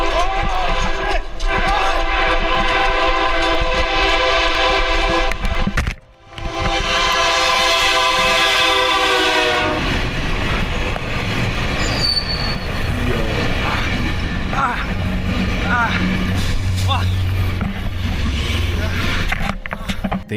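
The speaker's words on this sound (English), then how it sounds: "The train burst from the darkness behind them" Train bursting out of a dark tunnel with loud, piercing wheel squeal and a blaring horn that cuts off, then rumbling rolling stock and clatter, with voices shouting over the din.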